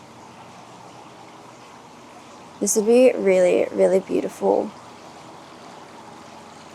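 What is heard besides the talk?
running water of a stream at a ryokan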